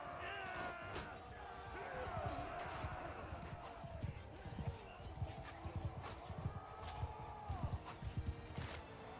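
Horse hooves clip-clopping at a gallop through deep water in Mount & Blade II: Bannerlord, a steady busy rhythm of hoofbeats mixed with battle noise, splashing and game music, with someone talking over it.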